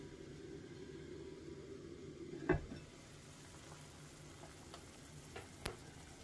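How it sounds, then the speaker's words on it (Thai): Beef noodle soup broth with stewing spices boils in a pot, a faint steady bubbling hiss with a couple of sharp clinks against the background. "น้ำซุปก็เดือดผุดๆแล้วนะคะ"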